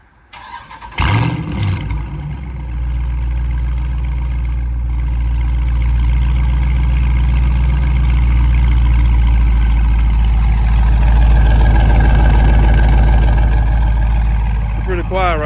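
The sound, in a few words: Dodge Charger Scat Pack catless exhaust, warm start and revving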